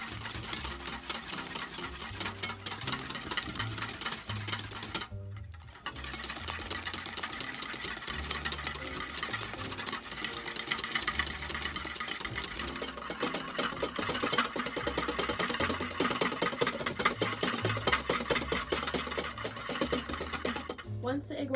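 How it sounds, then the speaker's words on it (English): An electric mixer whirs steadily for a long stretch while beating egg whites with salt and cream of tartar, with a short pause partway through before the motor whine resumes and grows louder. "Beat until you have very soft peaks."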